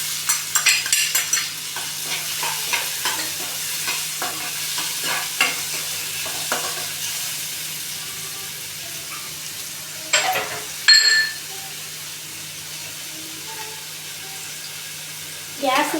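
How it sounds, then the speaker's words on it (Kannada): Chopped onions frying with cumin in a pan over a low gas flame, a steady close sizzle with scattered stirring scrapes and a couple of louder clatters, no talking. "ಸ್ವಲ್ಪ ಜೀರಿಗೆ ಫ್ರೈ ಆದಮೇಲೆ ಇವಾಗ ಒಂದೆರಡು ಈರುಳ್ಳಿಯನ್ನು ಕಟ್ ಮಾಡಿ ಇಟ್ಕೊಂಡಿದ್ದೇನೆ ಸಣ್ಣದಾಗಿ"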